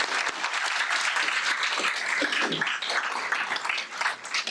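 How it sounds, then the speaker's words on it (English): Steady applause fills a school district board meeting room for several seconds, a dense, even wash of clapping from the audience with no talk over it. "And one final round of applause for those gentlemen joining us."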